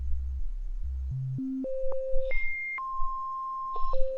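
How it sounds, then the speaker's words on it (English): A pure synthesizer sine wave with the filter opened, stepping upward in a series of steady held pitches like a rising scale of electronic beeps, clear and loud with no voices. "This is our sine wave. It sounds really nice."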